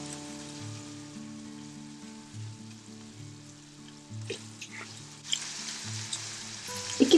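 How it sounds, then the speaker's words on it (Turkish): Minced meat sautéing with onion and pepper in a pan, a soft steady sizzle under quiet background music, with a burst of louder frying and stirring toward the end. "Şimdi soğan ve biberle biraz daha kavuruyorum."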